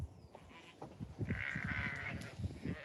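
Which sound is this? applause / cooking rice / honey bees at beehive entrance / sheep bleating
sheep bleating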